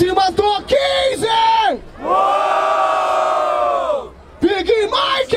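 Crowd at a Brazilian rap battle in Barueri, São Paulo, roaring and cheering in loud waves, with a long sustained shout in the middle and yelling bursts on either side.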